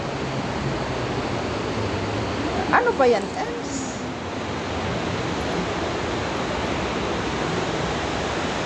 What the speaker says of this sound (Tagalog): Ang ingay kaya ng tubig. Ang lakas pala to sa ilalim.